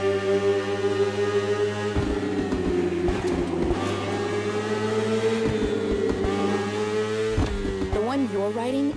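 A BMW S1000RR superbike engine in The Crew Motorfest hums at a steady, sustained drone with shifting pitch and a rise in revs near the end, under a constant bed of background sound.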